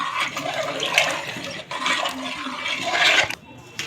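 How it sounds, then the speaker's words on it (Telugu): Tamarind juice poured into a pot of spinach sambar: a close, steady rush of splashing liquid for several seconds that cuts off near the end. "పండు రసం తీసుకున్నాం కదా మనం అది కూడా వేసేద్దాం కలుపుకుందాం"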